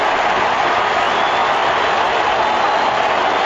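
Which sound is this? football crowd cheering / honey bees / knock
football crowd cheering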